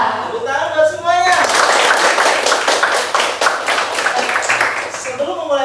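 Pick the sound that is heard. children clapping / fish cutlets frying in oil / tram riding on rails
children clapping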